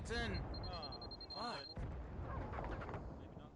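Grenade blasts during a competitive video game match, heavy muffled booms and rumbling rolling beneath continuous overlapping commentary voices.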